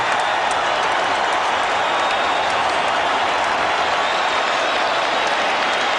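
A large arena crowd at the Evander Holyfield versus George Foreman heavyweight boxing match applauds and cheers loudly and continuously, a dense wall of clapping throughout.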